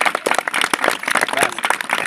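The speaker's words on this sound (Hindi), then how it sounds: "ताली बजा दीजिए एक बार" A village crowd at an outdoor magic show claps together in a dense, rapid burst of applause that is loud and close throughout.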